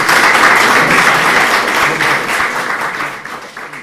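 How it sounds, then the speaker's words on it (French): An audience at a conference session applauds after a talk, a dense, sustained clapping that is loud and close at first and then slowly fades, with no speech over it. "On va d'abord applaudir le"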